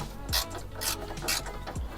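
A ratchet socket wrench clicks in short bursts while turning a bolt on a Honda K-series engine in an 8th-gen Civic Si, with four quick ratcheting strokes close up and alone.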